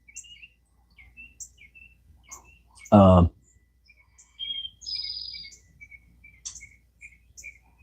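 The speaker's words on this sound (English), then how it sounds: "We're just easing into our day and listening to the birds." Scattered bird chirps and short tweets at dawn, soft and somewhat distant, broken by one sudden loud burst of noise partway through.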